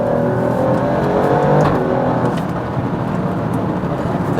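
An Alfa Romeo Stelvio Quadrifoglio SUV engine revs hard toward about 7,000 RPM and climbs in pitch, roaring steadily, then eases back slightly while still droning.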